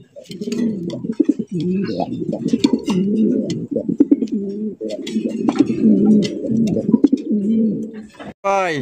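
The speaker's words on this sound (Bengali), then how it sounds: "দেখেন কত সুন্দর একজোড়া বোম্বাই কবুতর" A pair of Bombay pigeons coo continuously at close range in soft, rolling low calls, with brief clicks and rustles around them and no talking.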